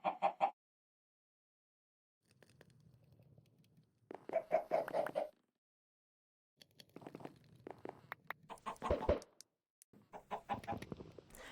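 Blocky Minecraft chicken clucks arrive in scattered bursts separated by silent gaps, some short and choppy and others longer rattling runs, sounding close and fairly quiet with no talking.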